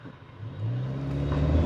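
A turbocharged car, a top-end SX variant, accelerates briefly, its engine note rising and swelling into a louder, sustained roar.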